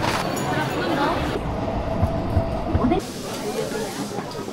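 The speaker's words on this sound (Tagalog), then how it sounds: "Sasakay kami ng train, yung romantic train." Sagano Romantic Train in Arashiyama, Kyoto, rumbles and hisses steadily from inside the carriage, with faint squeals and bumps before the noise drops suddenly to a quieter, softer run near the end.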